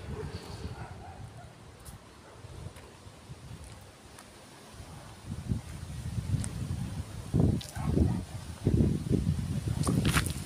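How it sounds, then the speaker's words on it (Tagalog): Strong, cold wind at a house in Tagaytay, Philippines buffets the microphone in low, rumbling gusts that grow louder and more forceful toward the end. "Grabe, ang lakas ng hangin."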